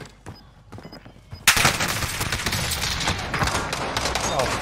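Gunfire in Call of Duty Warzone erupts after a quieter lead-in with faint shots, then becomes a loud, continuous barrage of overlapping automatic fire.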